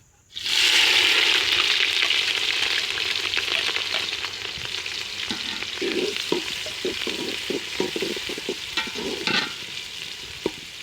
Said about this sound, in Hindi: घी गर्म हो गया, इसमें प्याज डाल देंगे